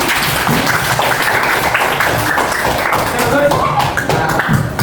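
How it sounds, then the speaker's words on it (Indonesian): A classroom of students clapping together, dense and continuous, with murmured voices mixed in underneath. "tepuk tangan dulu"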